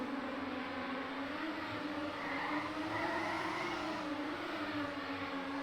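A race car in the Trackmania game hums along with a steady engine drone and a faint tire hiss, continuous and mid-level with no distinct impact.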